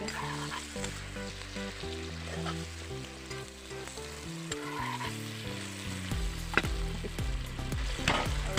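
Pieces of rohu fish frying in a pan, a steady close sizzle throughout with occasional sharper crackles and stirring sounds, over faint background music.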